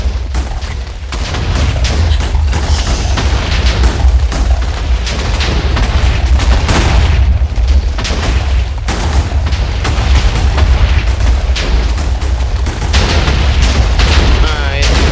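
TNT explosions detonate in a dense, continuous rumble of booming blasts, loud and overlapping with no gaps, filling the whole stretch.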